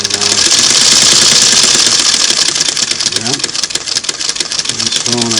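A Singer Model 301 sewing machine running with an automatic zigzagger attachment, a loud, steady, fast mechanical whirr and clatter close up, with brief voice sounds near the end.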